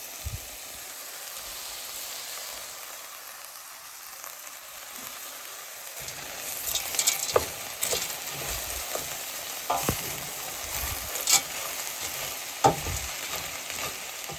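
Noodles toasting in olive oil in a pan, a quiet hiss for several seconds before a busier sizzle with sharp crackles and pops as they are stirred.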